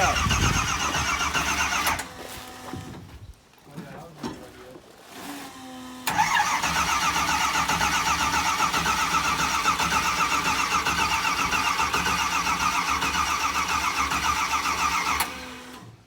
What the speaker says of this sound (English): you're gonna run out of battery before it starts